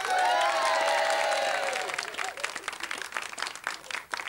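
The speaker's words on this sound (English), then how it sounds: "Give them a nice round of applause." A studio audience at a 1995 television talk show applauds, with loud clapping and cheering at first that thins out into scattered claps and crowd noise.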